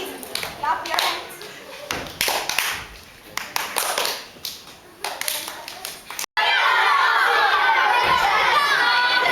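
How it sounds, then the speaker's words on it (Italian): A theatre audience claps in a loose, patchy burst at first, with shouts from the crowd in between. It then swells into dense, sustained applause that fills the room. "Clap your hands."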